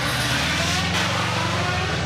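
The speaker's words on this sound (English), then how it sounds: "pausing to hear the beautiful sound of that car" Rally car on a forest stage runs close by with a steady, loud engine drone and a low, rumbling harmonic tone, alone without talk.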